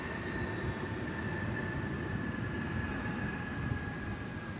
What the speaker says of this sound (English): Off to Auckland goes that aircraft.